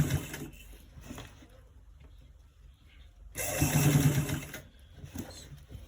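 A sewing machine stitches a V-neck seam in short bursts, the loudest run lasting about a second near the middle, its rapid mechanical chatter close and moderately loud between quieter pauses.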